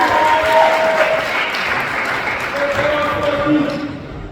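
An audience at the West Rand Classic bodybuilding show applauds the winners in a sustained, moderately loud ovation, with a voice over a public address system and some tonal sound above the clapping.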